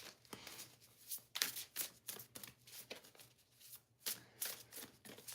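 A deck of reading cards being shuffled nearby in repeated crisp riffling bursts, quiet overall, with no talking.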